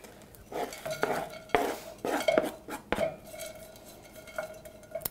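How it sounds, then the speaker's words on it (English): Bacon goes into a pan with melting onions: a run of clanks, clinks and scrapes of utensil against metal, with a light sizzle underneath. "We're going to add the bacon."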